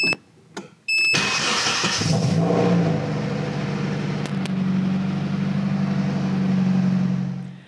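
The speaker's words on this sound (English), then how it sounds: "you should then be able to turn on the car, and it should start up right away" A 240 car engine cranks briefly after a couple of clicks, then fires and settles into a steady, loud, low idle that continues close by.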